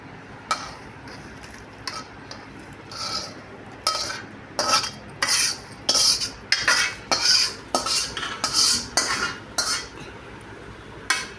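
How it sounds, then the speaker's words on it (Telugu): A spoon scrapes and clinks in bursts as tempering is mixed into cooked rice for mango pulihora, first sparse, then quicker and steady over a low background hiss. "ఈ పోపును కూడా పులిహోరలో కలుపుకోవడానికి అన్నంలో వేస్తూ ఉన్నాము"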